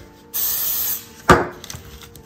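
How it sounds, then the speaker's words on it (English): A short hissing burst of pure vegetable cooking spray lasts about half a second, followed by a single sharp knock and a few faint clicks. "And spraying pure vegetable pan coating."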